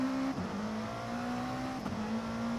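Race car engine from a racing video game in an endurance series, holding a steady droning tone with two quick shifts, fairly quiet and without talk.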